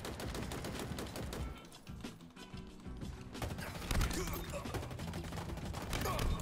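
Dense gunfire in a Halo Infinite free-for-all match: rapid overlapping automatic bursts and single shots, loud and nearly continuous, with a brief lull midway and a voice mixed in.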